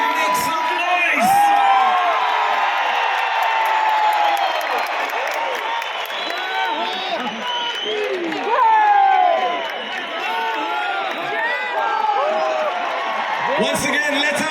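Large stadium concert crowd in Guwahati cheering, whooping and shouting continuously, a dense roar of many voices with rising swells and chatter throughout.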